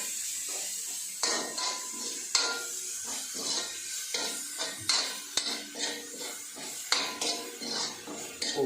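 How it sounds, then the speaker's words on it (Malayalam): Chopped tomato stirred into browned onion frying in a pan, with a spoon repeatedly scraping and clinking against the metal over a soft sizzle, in steady close strokes. "അപ്പോൾ അതിനകത്തോട് നമ്മൾ അരിഞ്ഞ് വെച്ചേക്കുന്ന തക്കാളി കൊണ്ട് ഇടും"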